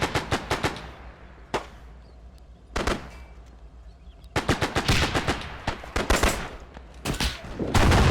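Heavy automatic gunfire in Arma 3 during a US Marine beach landing in the Pacific, loud rapid bursts of machine-gun fire broken by short pauses and single cracks.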